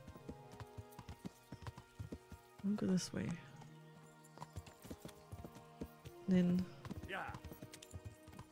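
Hooves clip-clop steadily as a horse walks in the video game Kingdom Come: Deliverance, close and rhythmic, with someone talking briefly over them and two short neighs.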